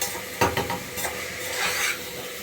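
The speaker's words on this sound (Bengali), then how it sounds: "তো চলো এবার চালটাকে ভেজে নিতে হবে ভালো করে।" Raw rice frying and being stirred in a pan at home, a steady close sizzle broken by a few sharp scraping stirs early on, with no voices.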